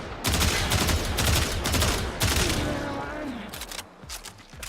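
Bursts of rapid Tiberon Prime rifle fire in the game Warframe, loud and close, in quick clusters with brief gaps between them.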